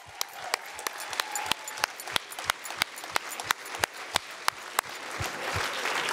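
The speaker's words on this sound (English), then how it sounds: "Give yourselves a round of applause." An audience at a Hall of Fame gala claps, with sharp, evenly spaced claps from a nearby clapper standing out over softer crowd applause.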